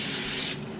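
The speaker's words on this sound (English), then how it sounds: "we're gonna spray the coconut oil" Coconut oil sprayed from a can onto a waffle iron, a steady hissing spray lasting about half a second before tapering off, close and fairly loud, with no talking.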